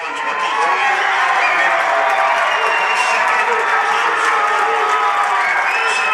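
Crowd applause and cheering fill a gym as a player returns to a girls' high school basketball semifinal game, a dense, steady roar of clapping and voices that holds loud throughout.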